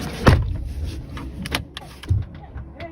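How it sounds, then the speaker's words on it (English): A man tugs at a parked car's passenger door, giving a sharp handle clack near the start and another thump-like rattle around the two-second mark, with faint scraping in between. "the aggressor, who had parked his car nearby, can be seen on the footage attempting to open the passenger door where Patricia is sitting."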